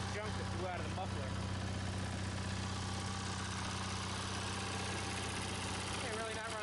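A car engine idles steadily after debris has been blown out of its muffler, running fairly smoothly with only a slight miss, a continuous low rumble close by throughout.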